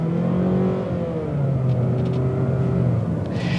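A 2022 Mazda 3 hatchback accelerates on the road, heard from inside as a steady engine drone with gently rising pitch and tyre rumble, continuous and moderately loud with no talk over it.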